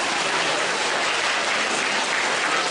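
An audience claps together at a Q&A session in Frankfurt, Germany. The applause is dense and continuous, loud and even for the whole stretch, with no voices standing out.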